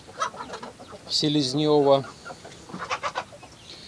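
Chicks and hens around a homemade feeder made from a canister, with clucking and a short drawn-out call from the fowl while someone speaks briefly near the start and end.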